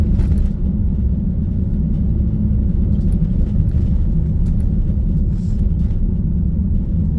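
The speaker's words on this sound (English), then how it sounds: "You just get the rumbling of the van." Van engine rumbling steadily while driving a scenic route over a bank holiday weekend in Towyn, a loud low continuous drone with road noise and no talk.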